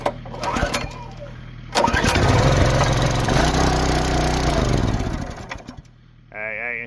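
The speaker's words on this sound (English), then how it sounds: "Got the old chainsaw. That's all hooked up. Now let's see if she'll start real quick." An old chainsaw is pull-started on a cold engine with the choke on: a few sharp pulls, then a loud rough idle that sputters and dies before firing briefly again.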